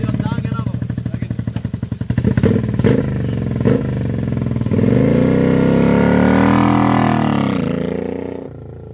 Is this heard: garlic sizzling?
no